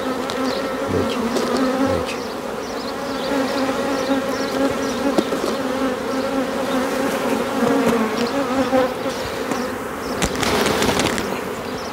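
Dense, steady buzzing of many young honeybees close to a hive set up as a broodless starter colony, with individual wingbeats flitting past over the drone for the whole stretch.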